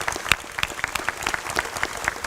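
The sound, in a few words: applause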